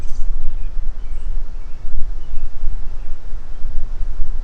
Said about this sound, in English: These big wind gusts